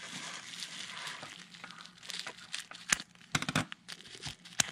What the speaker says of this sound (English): you cut only a little snip into that part that you didn't fold into it